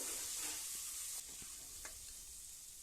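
Masala and onions fry in a pan for a village-style avarekalu (hyacinth bean) masala saaru, a steady broad sizzle with a few scraping stirs of a spoon, close and fairly quiet, no talking.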